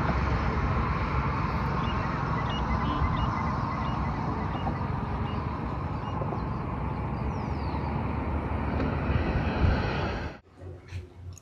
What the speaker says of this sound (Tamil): பாருங்கள் ஃப்ரெண்ட்ஸ், பைக்கில் போயிட்டே இருந்தாங்க.